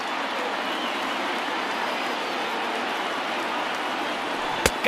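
A baseball stadium crowd in MLB The Show 2020 roars in a steady, dense wash of cheering that runs throughout without letup, ending in a sharp crack.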